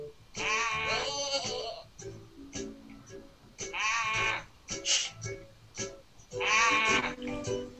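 Goats in a fainting goats mobile game bleat in repeated loud, wavering cries that come in three bursts, with a voice or two faintly underneath.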